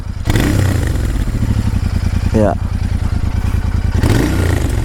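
Royal Enfield Interceptor 650 with its stock exhaust idling with a steady low thump, then revved twice in quick bursts, close by. A brief spoken word sounds over the engine.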